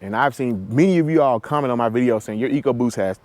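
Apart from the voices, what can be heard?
No distinct noise like a dog, phone or traffic.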